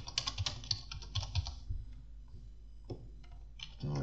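Close computer keyboard typing while writing Python code for a Streamlit app: quick bursts of key clicks, then a sparser pause with a few isolated taps.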